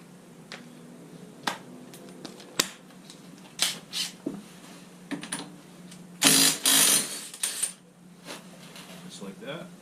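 A 1 1/8 inch socket removing the axle nut on a 2007 Yamaha Grizzly 700 FI ATV rear axle gives sharp metallic clicks and clinks, scattered and irregular, with a louder rattling burst near the end.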